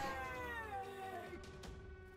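A cat meows in one long, loud, drawn-out wail that slides slowly downward, close by, with a couple of soft clicks near the end.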